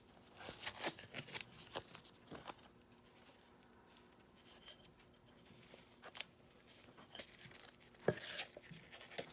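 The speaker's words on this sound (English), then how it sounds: "So I cut the tape off." Tape being cut off and pulled from items on a workbench, a series of close, crisp tearing and crinkling bursts with quieter gaps between.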